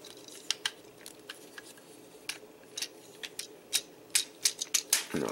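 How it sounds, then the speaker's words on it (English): Plastic parts of a Transformers Combiner Wars Scavenger toy are folded and clicked into place, giving a series of sharp, close clicks and snaps at an irregular rhythm that quicken toward the end. There is no talking. "you want to take the legs and fold them like this, and those will tab into place"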